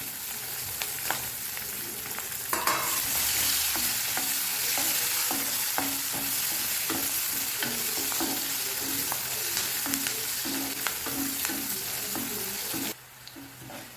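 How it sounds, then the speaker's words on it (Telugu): Onions and green chillies with curry leaves frying for palak ullikaram, a steady close sizzle with repeated spoon scrapes against the pan, fairly loud and continuous, dropping away just before the end. "చూసారా ఇవి వేగిపోయినాయండి ఉల్లిపాయలు పచ్చిమిర్చి"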